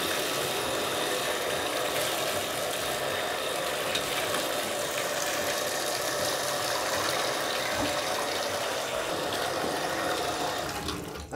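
Warm water gushes steadily from a tap into a tub holding a down quilt, a loud, even rushing flow for about eleven seconds that stops abruptly at the end, with no talking.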